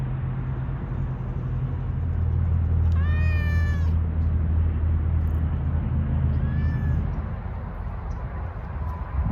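A cat meows twice, first a long drawn-out yowl and then a shorter one, heard over a steady low rumble of nearby traffic outdoors by the closed Six Flags Over Texas amusement park.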